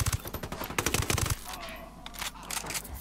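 Rapid bursts of automatic gunfire from the video game Ghost Recon Wildlands, dense volleys in the first second and a half, then quieter scattered shots with game ambience.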